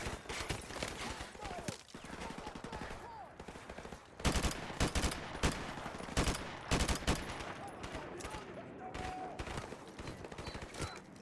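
Rapid gunfire bursts from Call of Duty Modern Warfare Remastered crackle loud and dense throughout, with volleys intensifying midway and a voice talking over the shooting.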